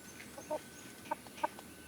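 A chicken clucks three times in short, soft bursts against a quiet background.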